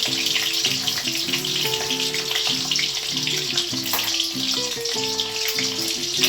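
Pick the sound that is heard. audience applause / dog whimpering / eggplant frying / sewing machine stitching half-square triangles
eggplant frying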